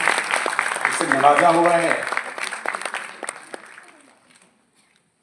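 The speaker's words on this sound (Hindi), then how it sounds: "इसके लिए जोरदार तालियां कि ईश्वर ने आपको" An audience at a university workshop breaks into loud clapping that swells, then thins into scattered claps and fades to silence, while a speaker's voice runs over the start.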